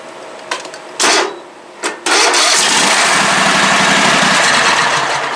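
A White Outdoor riding mower, left sitting for seven years, cranks in a couple of short bursts and then catches, its small engine running loud and steady up close.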